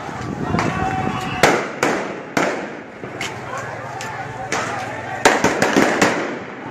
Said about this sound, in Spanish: Los petardos son como misiles.